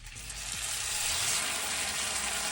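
Constant loud sizzle and bubbling from crushed homemade tomatoes and orzo simmering in a pan, with a faint low stirring scrape underneath.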